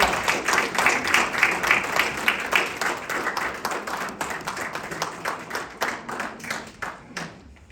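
Audience at a city council meeting applauding, a dense patter of many hands clapping steadily and close, gradually thinning out toward the end.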